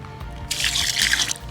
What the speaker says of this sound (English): just add a wee small amount of water.